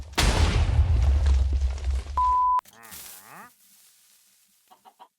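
Minecraft chickens exploding: a loud burst of explosive noise followed by a sharp electronic tone, then squawking, clucking chicken sounds that trail off into a few faint clucks.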